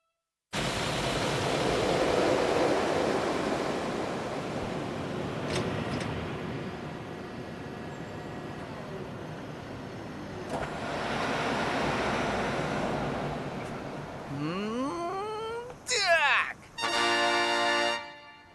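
Sea waves washing onto the shore with a steady, windy surf roar, swelling and easing, followed by other abrupt sounds near the end.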